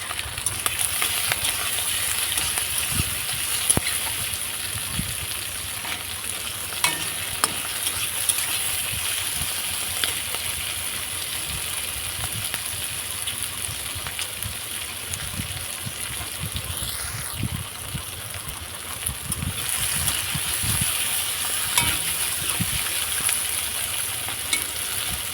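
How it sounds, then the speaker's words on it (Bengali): Shrimp heads fry in hot oil in a wok, giving a steady, moderately loud sizzle that runs the whole time, with occasional stirring scrapes and low knocks and no talking. "চিংড়ি মাছের মাথাগুলো দিয়ে ভালো করে একটু লাল করে ভেজে নেব।"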